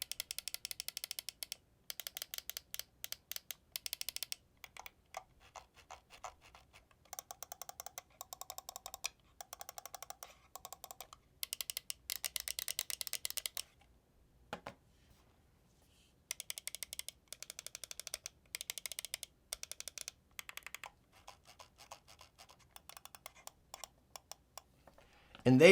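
Computer mouse buttons with magnetic spring-tension switches click crisply in rapid bursts and pauses, close and fairly quiet, with a short silent gap midway.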